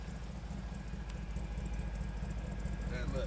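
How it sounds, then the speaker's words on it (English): The power steering pump whirs on a 1963 Impala with an LS swap to a 5.3 V8 and 317 heads, idling steadily with a low, even rumble and a faint pump whine. "If you guys wondering what the noise is, it's the power steering pump."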